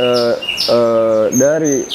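A white-rumped shama (murai batu) kept as a songbird gives close, loud, rich tonal phrases, three ringing calls in quick succession.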